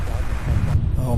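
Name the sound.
wind at the airport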